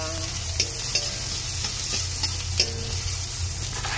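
Garlic and onion sauté in a pan with a steady sizzle, punctuated by several sharp spatula scrapes and stirring knocks, close and without talk.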